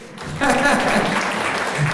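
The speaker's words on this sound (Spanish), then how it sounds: "Denle un aplauso a quien dijo pedagogo" Applause breaks out among an audience in a church teaching session, starting abruptly after a brief quiet and continuing at full strength, with some murmuring voices mixed in.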